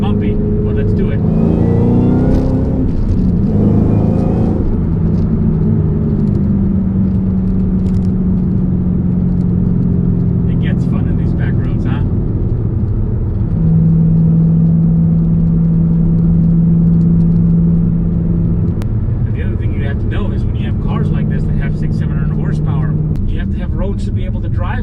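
A 2013 Shelby GT500 accelerates hard along a short, bumpy straightaway, its engine droning loud and close, pitch climbing through gear changes, while someone talks over the engine.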